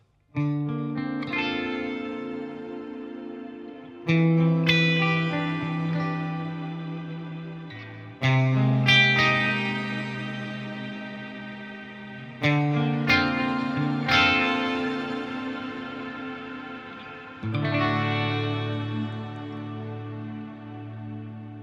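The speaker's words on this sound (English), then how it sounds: "if I click that on, I get this kind of massive ambient kind of sound" Guitar chords through a Line 6 Helix ambient reverb ring out one at a time, each blooming into a huge, shimmering wash of reverb that lingers and slowly fades before the next strum.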